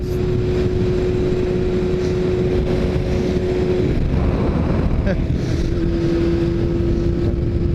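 A steady Yamaha R6 motorcycle engine drone runs continuously under heavy wind buffeting on the microphone while riding, loud and close, with a faint thin whine now and then.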